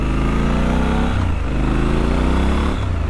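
A Triumph Scrambler 1200 XE (2022) motorcycle with an aftermarket exhaust pipe rumbles loudly and steadily up close, its low engine note dipping briefly twice as the revs shift, with no voices over it.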